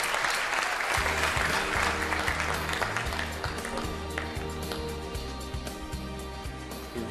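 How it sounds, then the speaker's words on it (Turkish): Applause from a studio audience for a young singer on a children's singing competition show, a steady, full clapping wash lasting throughout, with musical tones and some voices faintly underneath. "Selin'i kocaman alkışlıyoruz"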